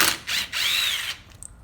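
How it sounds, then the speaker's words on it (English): Ratcheting wrench on 10 mm clutch pressure plate screws of a Banshee ATV, two close clicking bursts of ratchet pawl action with a brief pause, followed by faint handling clicks. "we're going to take the pressure plate off by pulling all of our clutch pressure plate screws out."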